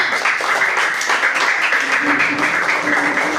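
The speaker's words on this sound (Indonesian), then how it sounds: "Oke, tepuk tangan buat kelompok 5." Students in a classroom applaud a presenting group, a steady patter of hand claps at moderate volume mixed with chatter and voices throughout.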